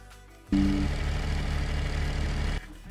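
Bike engine startup in the Roblox game Jailbreak: an abrupt onset into a steady, droning engine hum lasting about two seconds before cutting off, alone and fairly loud.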